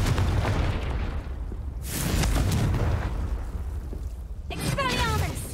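A Confringo spell explodes in Hogwarts Legacy, a loud booming burst followed by a rumbling blast and crackling magical shimmer near the end, amid constant game ambience.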